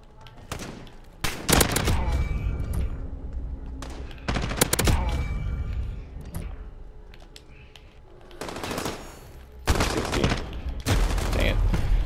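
M4A1 rifle fire in Modern Warfare, shot from a single magazine: several loud bursts of rapid automatic gunfire separated by short pauses, close and sharp over low background game sound.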